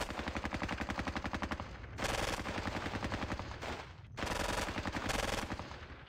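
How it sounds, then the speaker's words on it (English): Rapid machine-gun fire from the wargame Squad Battles: Red Victory at Ponyri, several long bursts of evenly spaced rounds, loud and close, with a short lull between volleys. "Machine gun can fire here."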